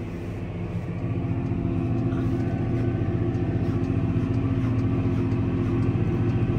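Tractor towing a vibrating cultivator through freshly rained-on garden soil, a steady close mechanical engine rumble with continuous rattling vibration running unbroken throughout.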